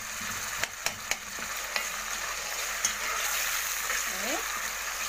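Frying in ghee for Egyptian Saidi bisara makes a steady, moderate sizzle with a few sharp utensil clinks and scraping stirs, with no voice heard.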